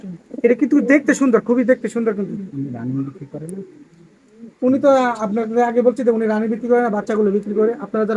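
Foreign-breed pigeons coo close by in a loft with young chicks, repeated throaty rolling coos almost continuously throughout, with someone talking over them.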